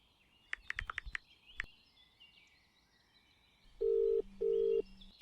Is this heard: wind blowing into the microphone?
no